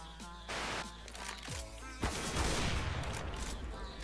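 Counter-Strike GO gameplay: a sharp crack of sniper fire at the start and another burst near the middle, with a dense clatter of in-game gunfire and effects throughout.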